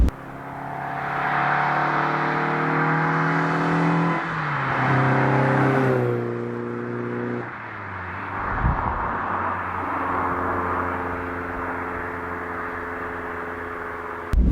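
A Mazda MX-5 engine with individual throttle bodies revs and pulls hard with strong harmonic tones rising and falling, shifting pitch several times, loud and close, no voices.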